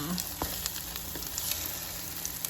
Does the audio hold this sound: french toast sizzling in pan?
yes